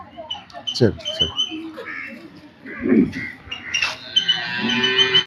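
Cattle mooing at close range, several low calls mixed with bird squawks and other outdoor farm sounds, with people talking nearby.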